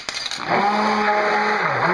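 A stick blender mixes cold process soap batter with a steady, close motorized whir that starts after a brief clatter and holds loud, its pitch dipping briefly near the end.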